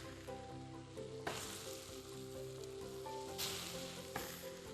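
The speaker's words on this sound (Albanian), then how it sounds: "Tash i kam edhe hudhrat, se edhe këto do t'i shtojmë që ta skuqe pak." Garlic added to softened leeks frying in a pot for a potato, leek and bacon soup, giving a steady close sizzle with occasional louder crackling bursts and no voices.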